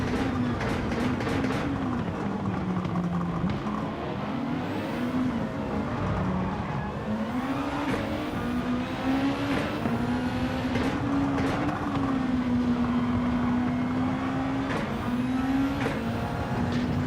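Racing cars in a racing video game overtaking one another, with loud, continuous engine whine that rises and falls as the gears change, plus a few sharp clicks and knocks, with no talking.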